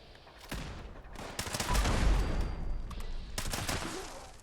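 Rapid bursts of rifle fire from a fast-shooting gun in the video game Fallout 76. The shots form dense, loud volleys that overlap into a sustained rattle.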